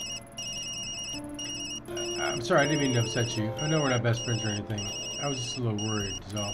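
A phone rings in the video game Tokyo Dark with a repeating electronic trill of bursts and short gaps, running steadily throughout while a character speaks over it.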